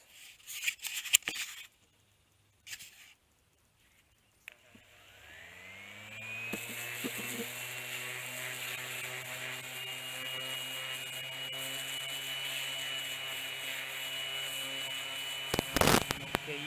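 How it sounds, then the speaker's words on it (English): A power sander works on salvaged copper, a steady whining grind that holds for about ten seconds after some scattered knocks and brief handling noise, close and fairly loud. "I'm going to sand this down a little bit"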